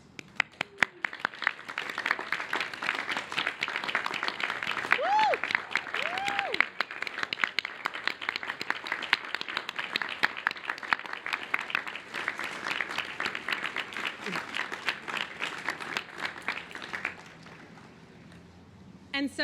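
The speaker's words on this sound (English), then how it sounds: "we invite you to all stand, please, with us right now so that we can celebrate you with a round of applause." A standing crowd outdoors on a Boston lawn at a Class Day ceremony gives family and friends a long, sustained round of applause, with scattered whoops over the clapping before it thins out near the end.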